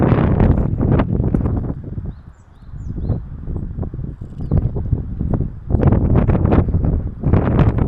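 Gusty wind buffets the microphone in loud, uneven bursts at an outdoor viewpoint in Morioka, Japan, easing briefly midway before roaring back strongly.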